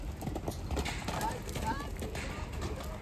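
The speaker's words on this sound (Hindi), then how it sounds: "बच्चे कैसे घूमते वैसे घोड़े घूम रहे हैं" Horses move about on a farm, their hooves clip-clopping steadily with faint mechanical rattling and a distant whinny, while people talk over it.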